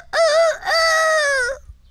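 A person imitates a rooster crowing with the voice, a loud close two-part call: a short rising note, a brief break, then a longer sustained wavering cry that cuts off.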